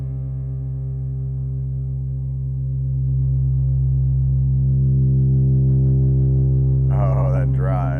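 A low, sustained Ableton synth drone with stacked harmonic tones and a driven filter that swells gradually, followed by a brief wavering, shimmering burst of higher tones from shimmer reverb near the end.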